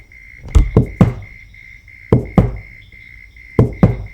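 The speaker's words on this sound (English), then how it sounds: "the sound of the creepy clerk walking up those stairs" Footsteps thudding up stairs in slow bursts of two or three heavy steps, with a faint steady high tone in the background.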